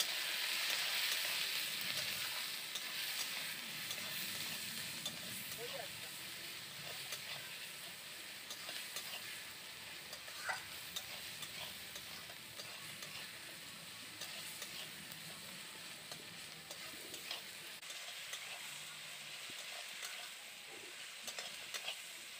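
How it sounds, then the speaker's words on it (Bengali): Fish roe cooking in a pan with spices, turmeric and salt, giving a steady soft sizzle and frying crackle with occasional stirring scrapes, fairly quiet and continuous throughout. "আবারও আমি এই উপকরণগুলোকে ভালো করে কষিয়ে নেব।"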